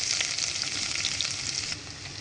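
Loud, close hiss and crackle of onions frying in hot oil with whole spices and cumin for vegetable khichuri, steady for a couple of seconds with no talking.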